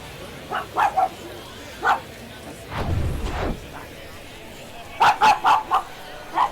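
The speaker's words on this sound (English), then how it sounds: "Sorry about the dogs in the background." Dogs barking in short yipping bursts, a few scattered barks then a quick cluster near the end, moderately close, mixed with a low rumble.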